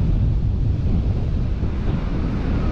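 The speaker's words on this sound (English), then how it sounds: "Super windy down here." Strong wind buffets the microphone in a constant low roar at a cold ocean beach, with surf rumbling underneath and no voices.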